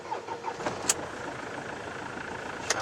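A car with its orange engine warning light on the dashboard is started: a steady engine rumble runs throughout, with two sharp clicks or clunks standing out, one near the start and one near the end.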